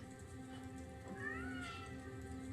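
A cat gives a drawn-out, wavering meow in the middle of a quiet indoor scene, moderately near, over a low steady background hum.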